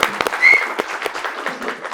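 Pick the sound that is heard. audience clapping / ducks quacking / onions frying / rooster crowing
audience clapping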